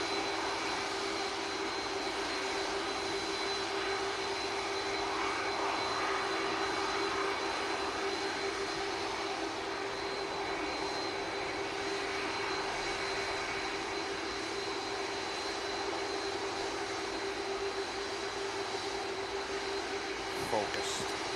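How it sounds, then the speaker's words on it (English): An EasyJet jet airliner departs Manchester Airport for Geneva, its engines giving a steady, loud roar with a persistent tonal whine held throughout about twenty seconds. "the EasyJet for Geneva finally getting on its way"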